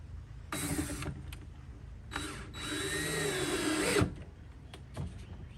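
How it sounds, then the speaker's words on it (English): Small drill bit boring screw holes into old wood, two separate bursts of whining motor with creaking as the bit bites, close and fairly quiet, with handling knocks between. "So while I'm drilling them, just to be careful because it's very old wood and I don't want to split it, is I'm using a very small drill"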